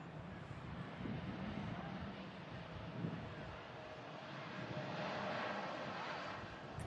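A Saudi Arabian airliner at Manchester airport gives off a faint, distant, steady jet rumble mixed with light wind noise on the microphone.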